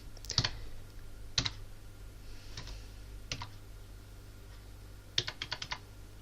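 Computer keyboard typing while editing a restaurant menu in Adobe Photoshop CC 2017: a few scattered bursts of close, crisp key clicks separated by quiet pauses, with a cluster of rapid taps near the end.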